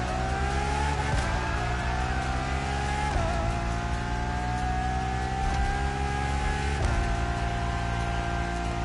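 A Ferrari Enzo supercar engine in The Crew Motorfest, revving loudly and continuously through a run of gear changes, each rising whine broken by a brief dip as the next gear engages, with no talking.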